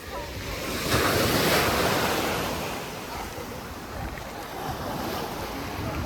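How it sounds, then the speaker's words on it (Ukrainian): Waves of the Balearic Sea break and wash onto the shore at Calella, Spain, a broad rolling surf swelling and easing over several seconds, mixed with buffeting wind noise on the microphone, with no voices heard. "Тут стільки хвильки великі біля берега закручуються."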